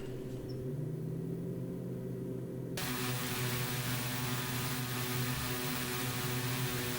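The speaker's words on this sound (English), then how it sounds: "A positive climb, and here comes the gear." In the X-Plane 11 flight simulator, an aircraft's landing gear retracts after takeoff on a Grand Canyon tour flight; a low mechanical whir and hum rise over constant engine drone, with a sudden broadband shift partway through.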